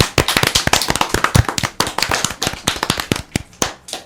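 Audience applause on a radio show, dense close clapping with many sharp overlapping hand claps, continuous and fairly loud.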